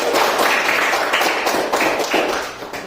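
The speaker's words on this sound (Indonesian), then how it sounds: "Kita tepuk tangan semuanya." A class of children in an Indonesian classroom claps their hands together, a dense, steady burst of many overlapping claps that fills the clip at close range before tapering slightly at the end.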